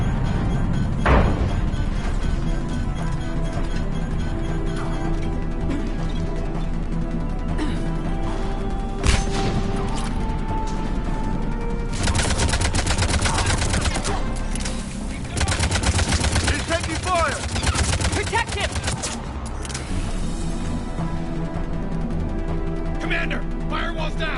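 Dense gunfire rattles through a Mass Effect 3 Legendary Edition battle, with rapid bursts, sharp single shots and crashing impacts layered over a continuous loud backdrop of combat noise for over twenty seconds.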